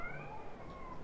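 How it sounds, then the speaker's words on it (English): Cat in the horror game Unforgiving: A Northern Hymn meowing in a long, drawn-out, slightly falling cry, faint and somewhat distant over a low background hum. "he's meowing like crazy"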